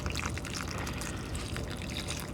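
Water pours steadily into the soil of potted plants as they are top-watered in an urban garden, a continuous close trickle and splash with no talking.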